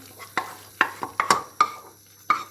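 A fried onion mixture is stirred into a pot of lentil soup with noodles, giving a series of sharp, close spoon scrapes and clanks over a faint simmering hiss.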